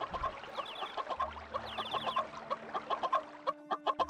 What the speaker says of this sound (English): It's a chicken. Hello, chicken.